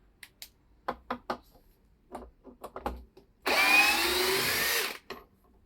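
A 2024 Einhell TP-CD 18/60 Li-i BL brushless cordless drill runs in second gear, giving one steady, loud whir of about a second and a half after a scatter of light taps and clicks.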